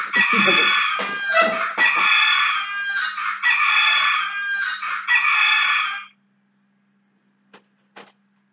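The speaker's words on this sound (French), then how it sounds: "c'est un coq qui chante" A rooster crows loudly and close, several long cock-a-doodle-doo calls running together for about six seconds, then near silence with a couple of faint clicks.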